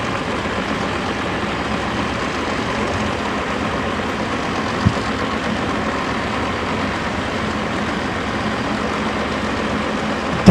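A drag racing motorcycle engine idles steadily while its carburetor gets final adjustments, at a 2019 Mancup World Finals event. The low, even rumble holds for the whole stretch with no revving.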